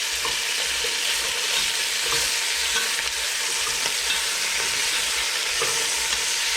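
Chicken skin frying in a pan to render its fat gives a loud, dense, continuous sizzle with faint crackles throughout, close and unbroken by talk.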